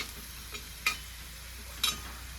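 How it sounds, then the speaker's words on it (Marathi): Sweet potato slices fry in a small amount of oil, giving a soft, low sizzle with two sharp clinks or scrapes about a second apart, near and quiet with no talking. "हे पण फ्राय करून घे घेणार आहे मी अशा थोड्याच कमीच तेलामध्ये"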